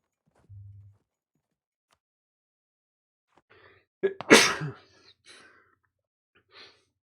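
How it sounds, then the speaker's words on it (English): A single loud, close sneeze bursts out alone in a quiet room, preceded by a short low breath and followed by a brief sniff and faint breathy sounds. "Whenever I get up in the morning, I sneeze like that, like crazy, it seems."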